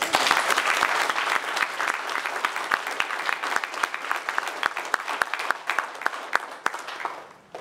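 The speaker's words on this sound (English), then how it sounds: "I think that deserves a round of applause" Audience applause at a drug court graduation ceremony, steady clapping with distinct individual claps standing out, tapering off toward the end.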